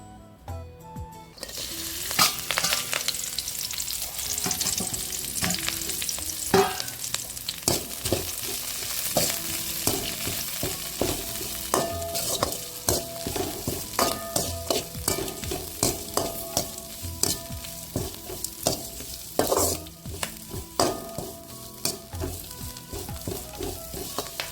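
Banana shoots sauté in a hot pan with a continuous sizzle, while a spoon stirs and scrapes through them in frequent irregular strokes, close and fairly quiet.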